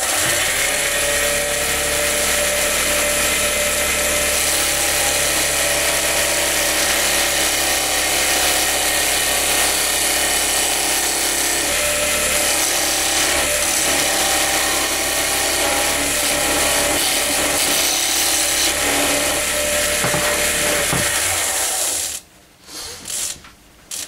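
A wood lathe spins a bud vase blank while its tenon is turned down, a loud continuous whirring drone with a steady cutting hiss that runs for about twenty seconds before winding down and stopping.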